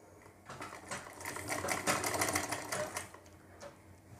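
Sewing machine stitching pleats on a Punjabi suit, a close, rapid run of mechanical stitching that speeds up and then slows to a stop over a few seconds, with no talking.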